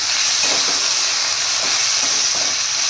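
Corn and green peas fry in a pan with coriander powder and spices for matar pulao, giving a loud, close, continuous sizzle with faint stirring.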